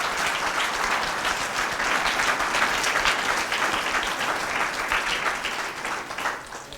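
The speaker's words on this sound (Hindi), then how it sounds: "तो तालियां बजा के," A church congregation at a thanksgiving service claps in praise, a dense and sustained round of applause from many hands that stays loud throughout and tapers slightly at the end.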